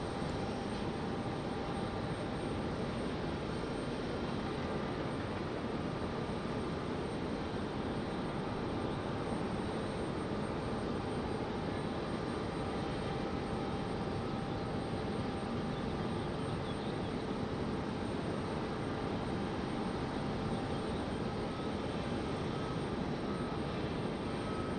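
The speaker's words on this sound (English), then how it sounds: "we can watch JetBlue get towed to the gate" A JetBlue airliner under tow to the gate at Raleigh-Durham airport, heard as a constant, even wash of engine and tug noise with a faint steady tone, unchanging throughout.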